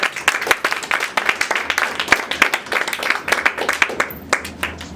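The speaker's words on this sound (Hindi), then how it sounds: "तो ऊपर जोरदार तालियां बजा लो।" Applause from an audience, a dense burst of many hands clapping that runs steadily for several seconds before thinning toward the end.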